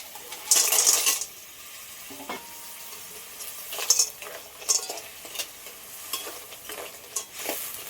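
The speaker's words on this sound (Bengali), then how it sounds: "এবার বাতাসাগুলো দিয়ে দেবো" Batasa sugar drops tumble into a pan with a bright rattling clatter of pieces, followed by scattered spoon clinks and scrapes over a low simmer.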